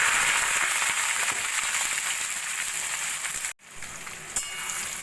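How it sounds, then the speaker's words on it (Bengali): Onions frying in hot oil in a home kitchen for chicken curry, cooked until light golden: a steady, dense sizzle that crackles on without pause, close and fairly loud, cut off by a brief break near the end before resuming. "পেঁয়াজ আমি হালকা সোনালি করে ভেজে নিয়েছি।"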